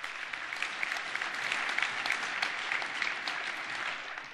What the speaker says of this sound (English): There's applause.